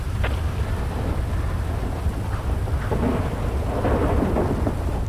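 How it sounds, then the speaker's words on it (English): Heavy rain pours steadily in a GTA 5 storm, with low rumbling thunder rolling underneath throughout, loud and close with no pauses. "Sorry, sir, the rain is so loud."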